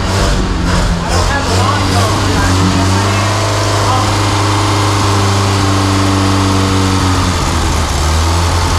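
A rebuilt 1983 Honda Civic 1.5L EM1 engine idles loudly and close by, a steady low rumble with slight wavering, while people talk over it.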